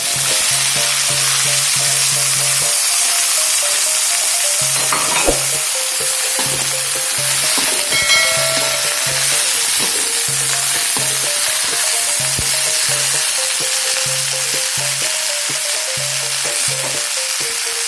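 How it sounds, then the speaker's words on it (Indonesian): Carrots and greens stirred into sautéed onions in a pan produce a loud, steady sizzle over a low pulsing hum, with occasional spatula knocks and scrapes, close and wordless. "Masukkan wortel, japan, sawi ke dalam tumisan bawang."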